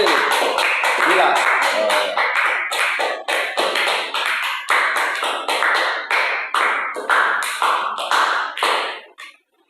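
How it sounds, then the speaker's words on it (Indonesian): A school class claps for a student named Maisa during a computational thinking lesson, giving a long run of brisk, sharp hand claps that thin out and stop near the end. "Beri tepuk tangan untuk Maisa."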